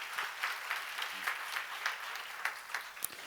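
Light, rhythmic clapping from a church congregation in the middle of a sermon, rising and falling in soft pulses at moderate distance with no voice over it.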